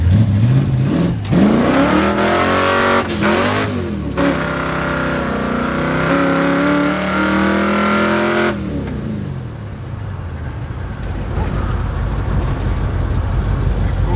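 A car engine revs hard and climbs through the gears in a series of power shifts, with sharp drops in pitch at each shift before the revs rise again, then the loud engine falls away to a lower drone.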